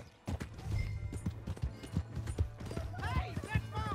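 Horse hooves clip-clop in a steady rhythm in the video game Red Dead Redemption 2, close and moderately loud, with a short neigh near the end.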